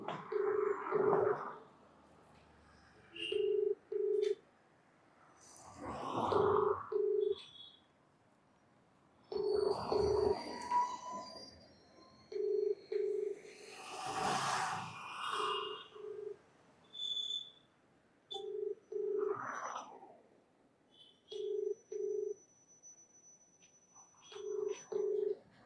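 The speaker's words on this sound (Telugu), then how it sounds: "ఫోన్ లిఫ్ట్ చేయలేదు, మరొకసారి చేద్దాము." Unanswered phone call ringing back in repeated double-beep tones at regular intervals for about twenty-five seconds, with brief background noises between rings.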